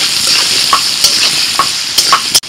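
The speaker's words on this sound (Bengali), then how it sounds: "আলুটা ভাজা হয়ে গেছে" Potatoes seasoned with salt and turmeric fry in oil with bay leaf, dried chilli and five-spice, giving a loud, close, continuous sizzle broken by a few short stirring scrapes and no voices.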